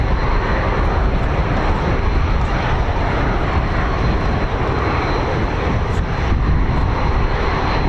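A BAE Hawk jet flies at an air show display at RAF Waddington, its engine a loud, steady broadband roar that holds without a break for the whole stretch, with no voices over it.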